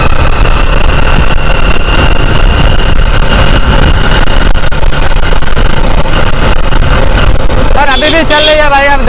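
A Hero Ignitor motorcycle engine from 2016 running during a road mileage test, a loud continuous roar with wind rush close to the microphone, and a voice briefly rising over it near the end.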